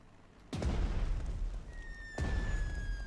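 Heavy 88 guns firing incendiary shells in the strategy game Panzer Strategy, Battle for Britain mission: two loud, booming blasts about a second and a half apart, each with a long rumbling tail.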